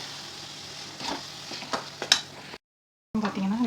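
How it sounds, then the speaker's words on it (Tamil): Chicken masala with chilli, turmeric and coriander powder sizzles in a pan as it is stirred with scraping strokes, with a brief silent break before frying resumes. "நல்லா கிண்டணும்."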